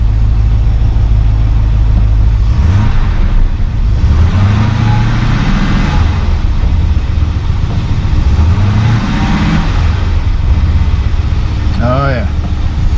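A 1972 Mercedes-Benz 280 SE 4.5 V8 runs at a steady, loud low idle, the engine rumble continuous beneath someone talking close by.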